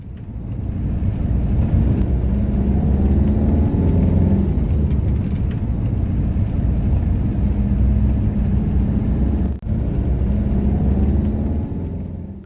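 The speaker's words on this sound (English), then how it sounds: "So we're just driving up a rather steep hill to St Michael's Roman Catholic Church" A car climbing a steep hill toward a church, a loud, close, steady engine rumble with a low droning hum throughout, a brief dip near the end, no voices.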